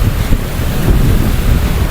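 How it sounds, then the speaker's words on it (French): Strong wind buffets the microphone on a French seaside walk, a loud, rumbling low roar that gusts unevenly, with a surf-like wash behind it and no voices. "il y a un vent très fort"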